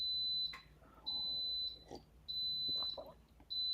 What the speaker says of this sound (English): Instant Pot made their pots beep 10 times